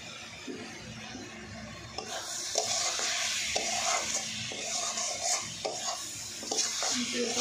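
Garam masala spices crackle and fry in a pan for a rice-flour coconut pitha, a soft steady sizzle broken by repeated rhythmic scrapes and taps of a spoon stirring against the metal.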